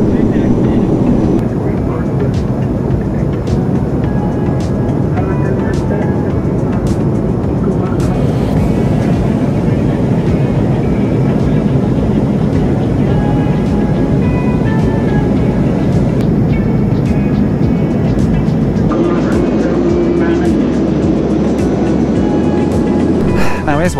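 Steady broadband roar inside the cabin of a 40-year-old Boeing 737-200 Combi in cruise over Canada, a continuous dense engine and airflow drone holding level throughout with a slight shift in tone near the end.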